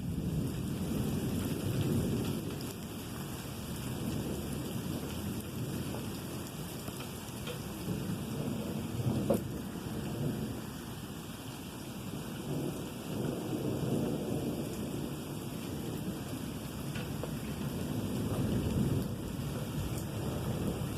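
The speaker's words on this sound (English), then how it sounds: "And the thunder has not stopped rolling" Steady heavy rain pours down in a thunderstorm while low thunder rumbles on and on, the dense wash of rain filling the whole stretch with no voices.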